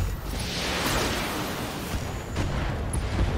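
Mech weapons open fire in the BattleTech strategy game, a sustained barrage of booming, rumbling impacts and blasts layered together, loud and continuous with no speech.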